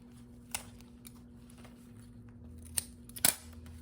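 Scissors trim fabric from a stitched seam on a square crossbody bag, giving a few sharp snips at intervals over a quiet background, with a closer double cut near the end.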